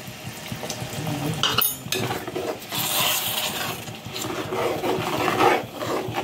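Tamarind water poured into a pan of seasoned gravy for an ennai kathirikkai (stuffed brinjal) curry, a close, steady wet rush with light clinks of utensil against the pan, no talking.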